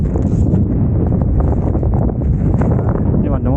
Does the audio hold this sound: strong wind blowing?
yes